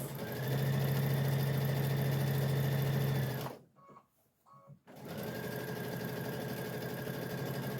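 A sewing machine runs steadily stitching a pillowcase seam for about three seconds, stops briefly with soft handling noise, then starts again and stitches on evenly to the end, close and loud.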